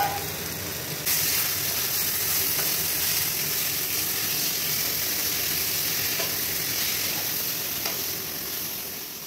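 Mutton pieces hit a hot pan for a Bengali-style curry, setting off a loud, steady, hissing sizzle that holds evenly throughout and eases slightly at the end, close and continuous.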